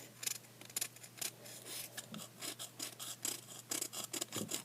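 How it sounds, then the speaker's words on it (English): Blade lightly shaving pastel stick onto a sheet of paper, a run of dry scraping rasps in quick irregular strokes, close and fairly quiet, with no talking. "you're just going to take your blade, and you're just going to lightly shave it"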